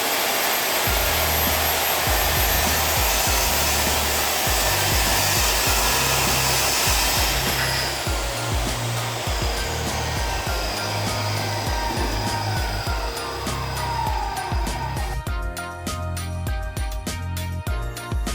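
A Crown 9-inch 2000 W circular saw, model CT15210-235, runs as a loud, steady whine while cutting wood. The motor pitch shifts partway through and is heard alone, without talking.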